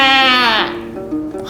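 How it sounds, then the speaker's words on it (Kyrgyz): A single sheep bleats loudly and close by, a wavering, quavering cry that falls away over about a second, with faint background noise after it. "Койлор."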